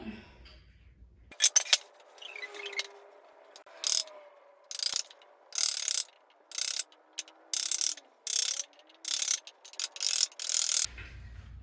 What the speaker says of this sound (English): Now we're going to chisel out that halfway point.